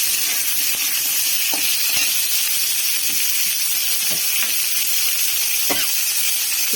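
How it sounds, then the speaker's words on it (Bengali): Chopped mango being stirred in hot oil with spices in a pan, a steady loud sizzle and hiss throughout with a few soft scraping stir knocks. "তো তেলের মধ্যে আমটা ভালোভাবে নাড়াচাড়া করে নিচ্ছি"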